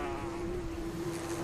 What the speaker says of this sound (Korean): 땅속과 밖을 바쁘게 오가는 일벌들